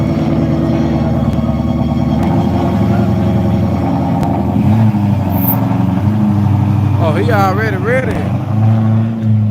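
A Mercedes AMG car revving at a drag strip under the lights, a loud, steady low engine drone with rising revs, mixed with crowd chatter and someone talking nearby.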